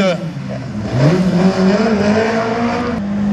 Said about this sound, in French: nous avons en piste Thibaut Paul sur cette magnifique Simca 1000